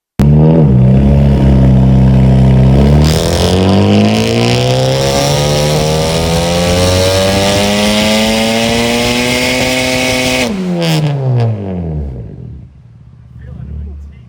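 A modded Honda Civic FL5 Type R on a dyno runs at full throttle, very loud and close, its engine note sweeping upward through a long pull before cutting off and winding down to a quieter idle.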